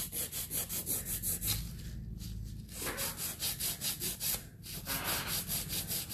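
A hand file shapes an acrylic gel nail in quick, even back-and-forth rasping strokes, close and steady, with a brief pause midway before the scraping resumes.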